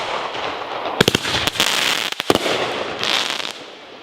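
Fireworks exploding nearby, a fizzing hiss punctuated by several sharp cracking bursts in quick clusters, with a crackling tail fading near the end.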